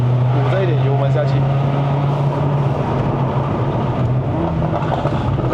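A Stage 2 tuned C117 Mercedes-AMG CLA45 on a mountain run to Genting, Malaysia, its engine droning loud and steady as throttle is fed in, with someone talking over it throughout.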